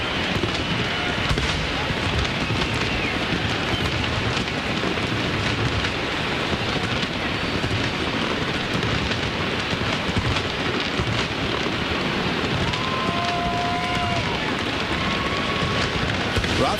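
A grand-finale fireworks barrage at an Australian display: a dense, unbroken wash of crackling and booming bursts, loud and continuous throughout with no pauses.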